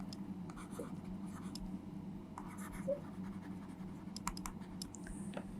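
Pen or marker scratching on a board or paper during a maths lesson on the inverse cosine function, with faint irregular strokes and taps under a low steady room hum.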